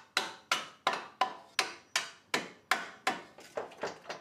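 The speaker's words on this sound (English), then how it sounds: "Now we're gonna take a hammer and tap out these bolts." Hammer blows tap out strut bolts on a GR Corolla through a microfiber cloth, about a dozen sharp metallic knocks in a steady rhythm, close and distinct, the last few quicker and lighter.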